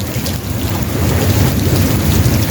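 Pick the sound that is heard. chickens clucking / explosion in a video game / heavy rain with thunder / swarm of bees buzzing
heavy rain with thunder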